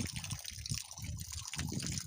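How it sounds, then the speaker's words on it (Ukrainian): Water runs from an opened tap, a continuous close gushing flow that stays fairly even throughout, with no talking. "Так, відкриваємо водичку."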